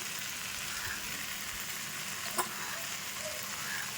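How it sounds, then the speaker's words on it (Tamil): Chicken sizzles steadily while being sautéed in a pan with garam masala and chicken masala, a close, even frying hiss with one brief clink of a utensil partway through and no talking. "ஸோ போட்டிருக்க சிக்கன் மசாலா கரம் மசாலாலாம் சேர்த்து நல்லா வதக்கிக்கிறோம்."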